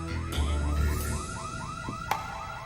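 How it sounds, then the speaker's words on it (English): A repeating electronic alarm tone chirps in a steady rising sweep about every quarter second, loud and close, with a low hum underneath and a sharp click partway through; no one speaks. "We've got an alarm."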